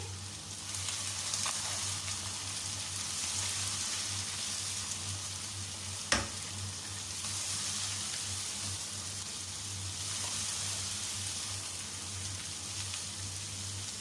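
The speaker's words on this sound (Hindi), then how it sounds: "दो मिनट के लिए हम इसे फ्राई करेंगे" Carrots and capsicum stir-fry in a hot pan, giving a constant even sizzle like light rain with a single sharp tap of the utensil midway, steady and unaccompanied by speech.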